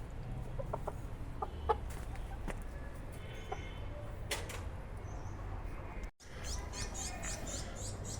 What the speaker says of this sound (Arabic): هذا عندنا هذا الدجاج الكوشامة.